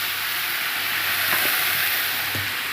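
Ginger, garlic and green chilli paste hits a hot pan, giving a steady, bright sizzling hiss that holds evenly throughout, with a couple of soft clicks partway through.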